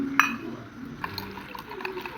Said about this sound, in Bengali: দিয়ে দিচ্ছি আমরা জল।